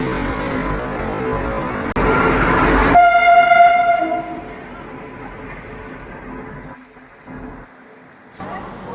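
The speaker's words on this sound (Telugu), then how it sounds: "ఫుడ్ తినేసి మేము స్టేషన్కి రీచ్ అయ్యేసరికి వాళ్ళ ట్రైన్ కరెక్ట్గా వచ్చింది" A passenger train rolls into a station with a loud close rumble, then a long blaring horn blast, before the clatter eases off into quieter station noise with faint voices.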